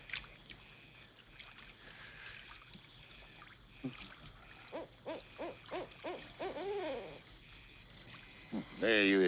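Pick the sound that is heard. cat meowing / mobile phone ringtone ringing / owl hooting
owl hooting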